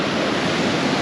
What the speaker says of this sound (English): So yeah, well, that's the ocean.